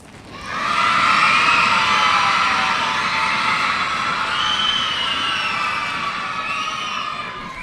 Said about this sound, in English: if you can stamp your feet and clap your hands